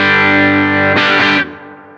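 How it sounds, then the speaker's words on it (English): Henry's Music Snake ST-1 Boa electric guitar on its bridge pickup, driven into a clean amp for a pushed-clean, slightly gritty tone; a sustained ringing chord, then a brief strummed burst that fades out, with no talking. "I like that kind of pushed clean that this guitar gives you."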